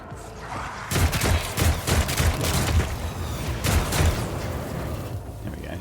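Rapid bursts of concentrated gunfire from a squad in Warhammer 40K: Rogue Trader, a string of loud, punchy shots and thuds clustered over several seconds with brief gaps between volleys, heard alone without talk.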